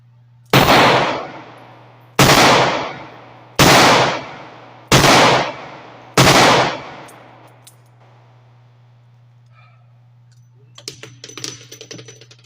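Five loud, sharp shots from a double-action-only snub nose revolver fire at a steady pace about 1.5 seconds apart at a range, each followed by a short decaying ring, then quiet with faint handling clatter.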